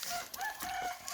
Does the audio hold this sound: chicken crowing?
yes